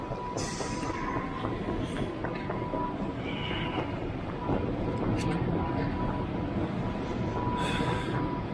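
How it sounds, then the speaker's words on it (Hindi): An S-Bahn train pulls out of a station platform on a trip to the airport, giving a steady rumble of railcars and rolling wheels with faint squeals and clanks throughout, heard from the platform with no talk. "इस ट्रेन से मैं निकला हूँ अभी"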